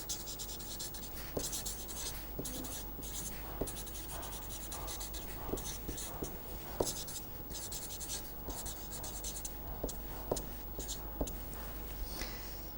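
Writing during a mathematics lecture, with steady scratching and rubbing strokes and small taps, continuing for several seconds, faint and close with no talking.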